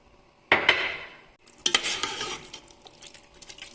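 A spoon scrapes and clinks around a pot of chicken masala loosened with water, making two bursts of stirring with a wet, sloshing texture and metallic taps at close range.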